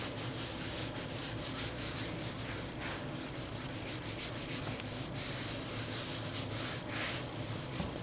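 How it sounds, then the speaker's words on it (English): A cloth wipes dye onto sanded leather, making a continuous close, scratchy rubbing sound with soft, regular strokes and no talk. "the way you would do that is just basically by wiping them in, wiping the dye in"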